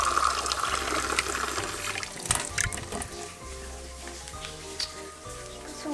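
Tap water, brown in colour, runs steadily in a house in Mozambique, a continuous hiss and splash with a low hum beneath it, fairly close and moderately loud.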